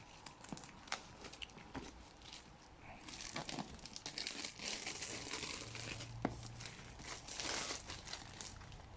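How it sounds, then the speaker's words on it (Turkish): The box of an Asus ROG Strix 550W power supply is opened by hand: soft, close crinkling and rustling of packaging with scattered small crunches and tearing sounds, fairly quiet throughout. "İsterseniz bir açalım kutusunu önce."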